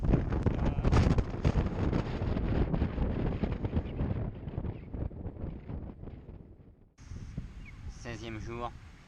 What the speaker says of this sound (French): Il y a un vent époustouflant